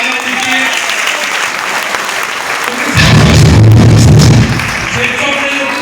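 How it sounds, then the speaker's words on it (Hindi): Audience at a business success seminar bursts into loud applause, a dense wash of many hands clapping that swells sharply midway, with a low rumble beneath, then eases back to steady clapping. "हमारी कंपनी के लिए जोरदार तालियां होनी चाहिए"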